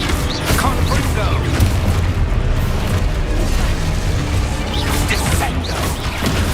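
Loud, dense crashing and booming of spell blasts in the Hogwarts Legacy video game, with a fiery Confringo blast among continuous impacts, clattering debris and muffled game voices throughout.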